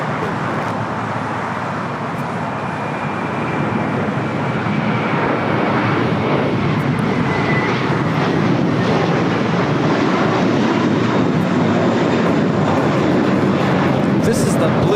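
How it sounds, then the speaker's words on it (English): A JetBlue Airbus A321 takes off from LAX bound for Fort Lauderdale, a continuous rushing jet roar that slowly builds and stays loud, with faint voices mixed in beneath. "This is the Blue Carpet Treatment taking off to Fort Lauderdale. This is JetBlue 100. It's an A321."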